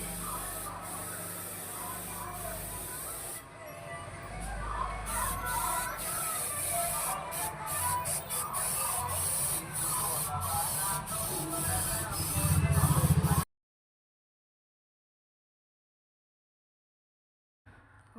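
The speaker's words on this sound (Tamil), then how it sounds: "இது வந்து கலர் ஸ்ப்ரே பண்ணுறோம்." A continuous airy hiss of a spray gun spraying color onto wood runs for about thirteen seconds, broken by quick gaps, then stops abruptly into silence.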